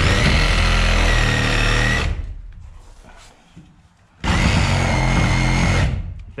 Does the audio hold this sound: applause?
no